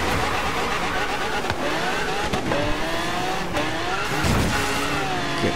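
A race car engine roars in a racing video game called The Boneshaker 360, loud and continuous with rising and falling revs, gear shifts and brief bumps, while someone talks over it.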